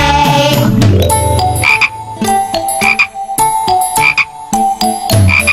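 Loud, repeated frog croaks over a bouncy musical backing, coming in quick bursts close to the listener.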